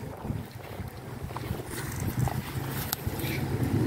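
Outdoor wind blows steadily across the microphone while an elderly man flies a kite with a bamboo flute attached, a low rumbling buffet that grows slightly stronger toward the end, with no speech.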